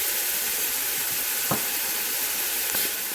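Garlic sizzles in a sauté pan with a steady, dense frying hiss throughout, close up, with a couple of faint stirring knocks and no talk.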